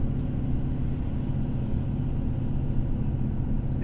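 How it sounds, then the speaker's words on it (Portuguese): A loaded Volvo FH 460 truck carrying 36 tonnes descends the Joinville mountain road, its engine a low steady rumble with faint mid-range drone, moderately loud and unbroken, with no talk. "Nós estamos aqui com 36 toneladas, nosso caminhão FH 460."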